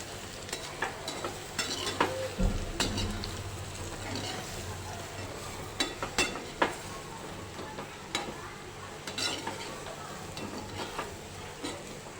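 Patra pieces and white sesame seeds being stirred in a pan, with soft scraping and gentle sizzling, plus intermittent clinks of a spoon against the pan, close and fairly quiet.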